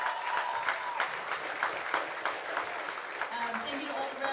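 Moderate applause from people at a local sports club presentation, clapping in a steady patter with a voice talking faintly over it.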